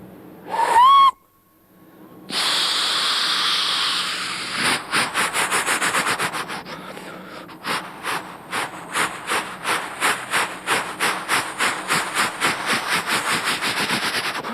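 A man vocally imitates a steam train: a rising whistle, a pause, then a long breathy hiss breaking into rhythmic chuffing bursts that quicken and repeat, loud and close, with no other talking.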